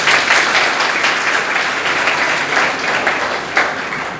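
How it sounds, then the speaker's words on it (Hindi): A large audience at a coaching institute event honoring a NEET-qualified student bursts into loud, sustained applause, a thick continuous roar of clapping close to the microphone. "ताली बजा दीजिए।"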